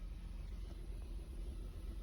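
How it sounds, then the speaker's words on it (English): A 1980 Datsun 280ZX fitted with an EZ EFI fuel injection system idles steadily, giving a continuous low engine rumble that stays even and fairly quiet throughout, with no talk over it. "we got the car running, as you can see"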